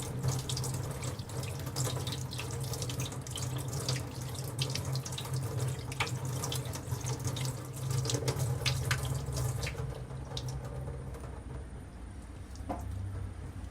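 A kitchen tap runs steadily while wheat flour dough is washed under the stream, with continuous splashing and gurgling, occasional drips and sloshes. The flow thins toward the end.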